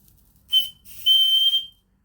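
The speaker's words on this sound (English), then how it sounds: "I reckon we could probably give the whistle a test." A Retrol SE-02 model steam engine whistle gives two shrill, close toots, a short blast followed by a longer sustained one that fades quickly into quiet.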